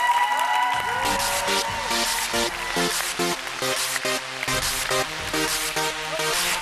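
An audience claps and cheers loudly over rhythmic, pulsing music, with a voice calling out amid the applause.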